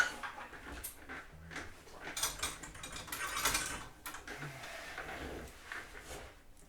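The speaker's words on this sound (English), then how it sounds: "I want to be able to remove these hinges for a minute." Hinges are being removed from a cigar box guitar, producing quiet, close clicks, ratcheting ticks and small scraping creaks in irregular bursts.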